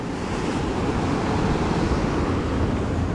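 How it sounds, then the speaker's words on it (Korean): Ocean surf and wind roll in continuously on an Australian shoreline during luderick fishing, a loud, steady wash of breaking waves with gusty wind noise buffeting the microphone. "파도."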